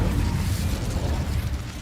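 A fire spell is cast in the Hogwarts Legacy video game, giving a dense burst of roaring, crackling whoosh that stays loud and steady for about two seconds with no talk over it.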